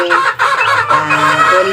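A mother hen with her chicks, fed a mix of banana and rice, gives close, loud, repeated throaty clucks in a quick run, with high chick peeps mixed in.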